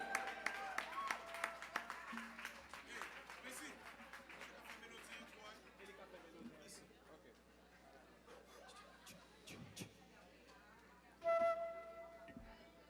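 Applause for a flautist at a jazz concert celebrating International Jazz Day in Haiti, starting loud and tapering off into crowd chatter and murmuring, with a brief burst near the end.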